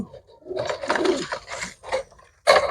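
Pigeons kept by a Punjabi pigeon seller coo in soft, low murmurs over a few seconds, with a sharper burst of noise near the end.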